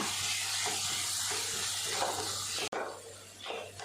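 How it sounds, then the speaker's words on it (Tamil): Spiced raw banana sautés in a pan with a steady close sizzle, while a spoon stirs and scrapes through it in uneven strokes. The sizzle briefly cuts out near the end, then resumes. "சேர்த்துட்டு எல்லாத்தையும் நல்லா கலந்து விட்டு வதக்கலாம்"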